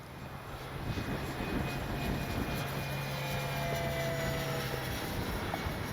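An X-Fly Spitfire RC plane makes a straight, level performance pass into the wind, its engine a steady, fairly faint drone with thin sustained tones, holding an even level throughout.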